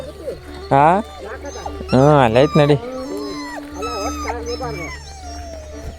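A dog lets out high, wavering whimpers and yelps in short bursts at close range, while a person speaks briefly over a low steady hum.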